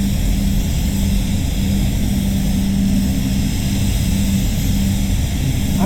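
A spray gun lays basecoat onto an XK Jaguar in a steady, loud, continuous hiss and airy roar with a faint hum under it, uninterrupted throughout.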